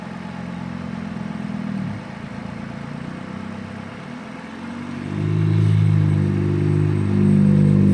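A 2013 Lexus ES350 with 94,000-plus miles, running on Valvoline Restore and Protect 0W-20, idles with a steady low mechanical hum that grows louder and fuller partway through, with no talking.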